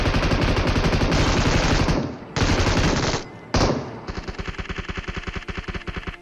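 Gunfire in the video game PUBG Mobile: loud, close bursts of rapid automatic fire with brief pauses, ending in a fast rhythmic string of repeated shots, with no talk over it.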